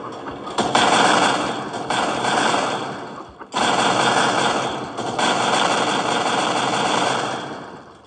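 Rapid gunfire aimed at a speeder in the video game Garten of Banban 2: loud, dense bursts of shots with engine-like drone, cut by a short pause midway, then resuming steadily.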